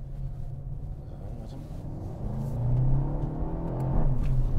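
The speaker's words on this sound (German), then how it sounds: "Ich gebe mal Gas gleich, ja?" Mercedes-AMG A 35 4MATIC heard from inside as the engine hum climbs in pitch under acceleration, swelling louder in two surges over a constant cabin rumble.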